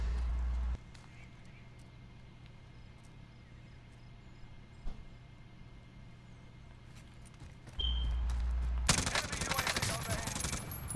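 Burst of long-range gunfire in a first-person shooter game, a dense crackling volley arriving near the end after a stretch of quiet, with a player talking over the action.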